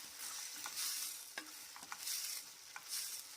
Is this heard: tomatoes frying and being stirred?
yes